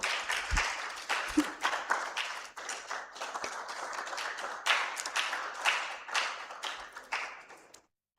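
A crowd at a project launch keeps clapping for the Deputy Speaker of the Akwa Ibom State House of Assembly, a busy, uneven patter of many hands with a few sharper claps before it stops abruptly near the end.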